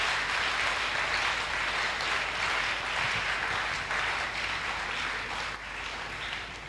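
A church congregation applauds and cheers steadily, a dense wash of clapping from many hands filling the room at an even level before easing slightly near the end, with no clear speech over it.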